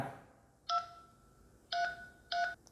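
Three short electronic dialing beeps from a Mibro Watch Lite 2 smartwatch placing a phone call sound at uneven intervals, fairly faint, with quiet in between and no talking.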